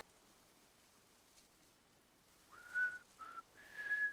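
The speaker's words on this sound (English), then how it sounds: "Wait, he's whistling?" A character in the video game Death Stranding whistles a song, a lullaby once whistled to a baby, in three clear sustained notes after a quiet stretch of faint background ambience.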